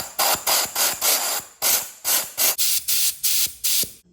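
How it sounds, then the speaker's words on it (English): An air compressor blows dirt out of a Kawasaki Prairie 650 4x4 ATV coolant filter in about ten loud, close, sharp bursts of hissing air, each cut off abruptly, with no talking. "we're going to be getting the air compressor and blowing all this crap out."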